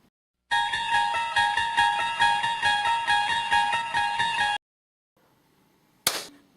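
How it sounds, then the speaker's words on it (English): A single hand clap sounds in an acoustically dead room, sharp and completely dry with no ring or echo. It comes after several seconds of rhythmic tonal sound and a short silence. "That's the sound of a clap in a dead room."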